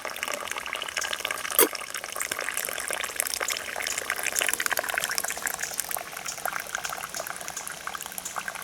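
Brewed coffee dripping from a coffee bag into a 12 oz Open Country cup on a trail stove setup: a steady, faint trickle and patter of liquid, with one brief louder clink early on, and no voices.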